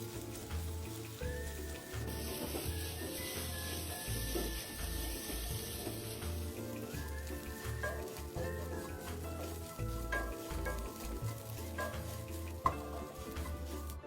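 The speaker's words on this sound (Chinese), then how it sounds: "热锅内倒入100毫升食用油，油热后再将所有香料倒入炒香" Spices stir-fry in 100 ml of hot cooking oil in a wok over medium-low heat for curry meatballs. A soft, continuous sizzle and occasional stirring scrapes sit beneath steady background music.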